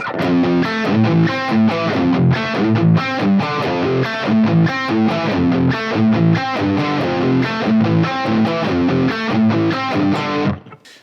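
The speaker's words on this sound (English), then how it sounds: "So now that I've had this gain enhancer on there, my guitar now sounds like this." Electric guitar through a gain enhancer, with heavy gain and compression, playing a busy, sustained riff at steady loudness for about ten seconds before cutting off abruptly.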